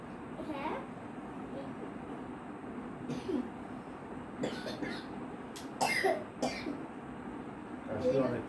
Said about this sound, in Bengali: কাশি অনেকটা করছে।